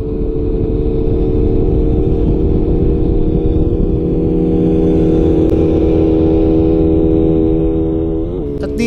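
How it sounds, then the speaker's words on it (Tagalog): A Rusi Flame X 150 motorcycle engine runs close by with a loud, steady, droning hum for several seconds, ending in a brief rev. "Alam mo yung motor natin na Rossi Flame X 150?"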